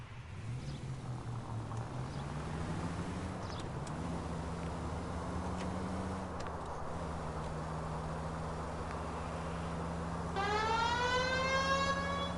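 A police car siren in the L.A. Noire video game wails over a steady engine drone, its tone rising and falling, then a brighter rising sweep enters near the end; no talking.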